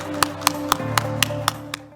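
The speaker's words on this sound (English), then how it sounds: "And a big round of applause for everyone once again." At a business sustainability fireside chat, an audience applauds with sharp, evenly spaced claps about every quarter second over a low room hum, sounding like a single rhythmic clapper rather than a full crowd.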